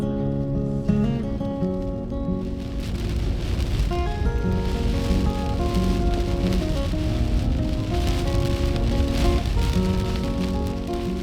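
Steady rain falls on a surface in Alaska, a continuous close patter lasting throughout and mixed with tonal hum and faint background sounds.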